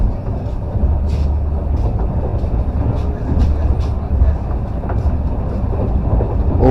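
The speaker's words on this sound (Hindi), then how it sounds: "Overtake express train." An express train overtaking, heard from aboard a Tejas Rajdhani express: a loud steady rumble with rhythmic rail clatter and wind rush running throughout, close and continuous, with a voice speaking over it.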